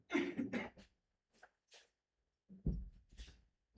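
A few coughs sound close by in separate rough bursts, with short quiet gaps between them, during a maths lecture.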